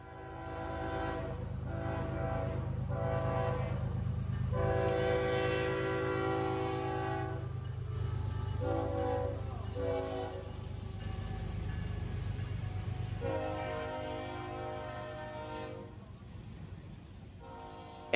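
Freight trains roll past near a railside spot in Folkston, with a loud, sustained rumble and repeated air horn blasts sounding in several bursts over the steady rail noise.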